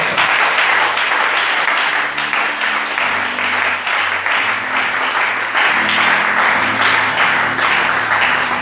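Loud, sustained applause from a church congregation fills the space, with dense clapping continuing evenly throughout and a low murmur of voices beneath it.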